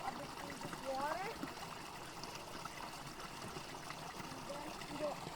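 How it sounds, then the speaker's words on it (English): Soft trickling and swishing of shallow Ganga river water as someone wades through it, faint and close, with brief spoken remarks mixed in. "I'll have to go a bit through this water."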